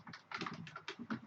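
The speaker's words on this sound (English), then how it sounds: "if you type the same in a browser without the grepper Chrome extension" Quick bursts of typing on a computer keyboard, a short run of close, fairly soft key clicks in an uneven rhythm with no voice.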